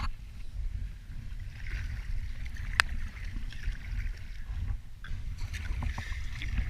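Kayak paddling on open water during an expedition in Greenland, with soft rhythmic splashes and water swishing against the hull under low wind noise, close and fairly quiet.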